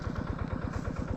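A motorcycle engine idles close by, its low, steady chugging pulse holding an even rhythm with a light mechanical clatter on top, with no talk over it.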